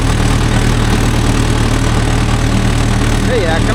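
A Mahindra Yuvo Tech Plus 585 4WD tractor engine runs nearby at a loud, steady diesel throb, with someone speaking over the rumble.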